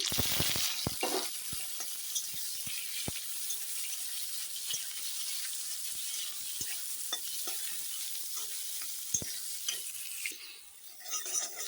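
Eggplant frying in oil with black cumin, a bright steady sizzle close by with frequent sharp spatters and pops, easing off near the end.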